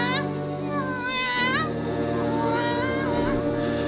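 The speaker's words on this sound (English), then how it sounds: "Yes, it's a cat." A black tomcat meows in a radio drama, with a couple of drawn-out, wavering meows rising and falling in pitch, heard close over a steady low background hum.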